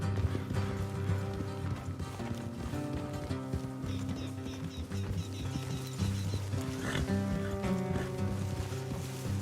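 Horse hooves clip-clopping on a road in the video game Red Dead Redemption 2, a steady gait under continuous game music, with no speech.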